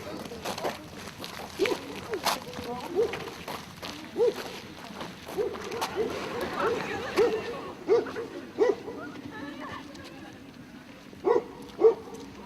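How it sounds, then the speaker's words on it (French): A Brazilian dog barks and yips in short bursts scattered through the clip, fairly close, mixed with people talking and background bustle. "Ah le chien. Un chien brésilien."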